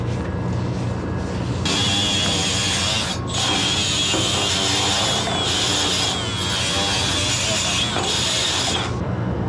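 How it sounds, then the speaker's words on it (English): Wire brush scrubbing a pipe on a failed R-32 chiller, a steady harsh scraping with bursts of strokes close by, continuous over a mechanical background. "we're gonna clean that thing up with some brake cleaner and then the wire brush"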